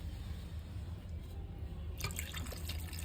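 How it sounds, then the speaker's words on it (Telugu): Water poured into a cooking pot on a home stove, a faint trickling splash starting about two seconds in over a low steady background hum. "కొంచెం వాటర్ కూడా పోసుకోవాలి"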